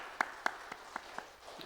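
A handful of separate hand claps from a church congregation at a Korean Christmas testimony service, about six sharp claps spaced roughly a quarter second apart, faint and fading toward the end.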